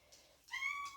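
A kitten that hid under a shed lets out a soft, close meow, a brief higher squeak followed by a longer rising cry.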